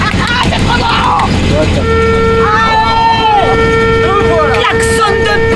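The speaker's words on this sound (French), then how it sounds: "Klaxon de bonhomme!" A licence-free microcar's horn gives a steady, thin tone held for several seconds, loud and close, while people talk and laugh over it inside the small car.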